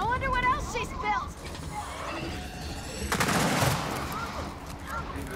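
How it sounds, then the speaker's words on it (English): Sniper and other gunfire ring out in the shooter game Gears of War 4, sharp cracks and bursts over a busy battle din with scattered shouts and voices. "We got snipers!"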